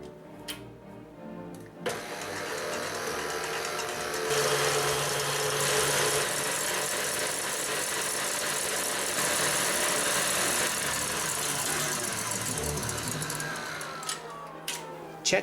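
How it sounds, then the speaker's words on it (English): Electric mixer beating egg whites at high speed in a second bowl for an Irish whiskey fudge cake, a steady close whirring drone that starts after a couple of seconds, runs continuously with a brief pitch change, then winds down at the end. "we need to use a second bowl and beat the egg whites at high speed for several"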